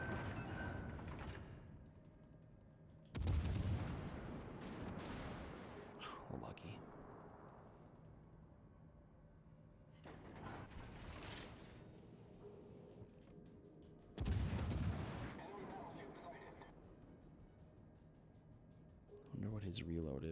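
Secondary guns firing on warships in World of Warships Legends, several loud booming salvos spaced a few seconds apart, each with a rumbling tail, under quiet talk.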